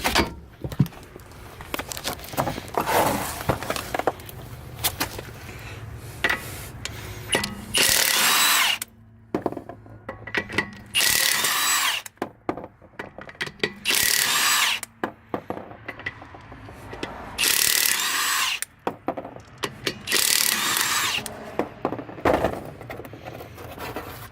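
A power tool whirs in repeated loud bursts while loosening bolts on a Subaru WRX during a narrowbody build, each burst separated by short pauses.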